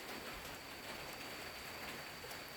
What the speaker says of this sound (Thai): ฝนตกมันผมเปียกหมดครับ